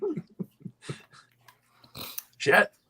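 Heavy snoring close by: a few short throaty rasps, then two loud, rough snorts toward the end, with quiet pauses between breaths.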